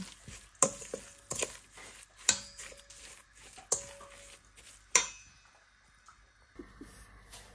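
A spoon mixing grated cassava suman batter in a bowl, with sharp clinks against the bowl at irregular intervals between soft stirring scrapes, close and fairly quiet with no talking.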